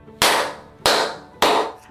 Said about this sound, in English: when you speak or you clap, you hear a clear echo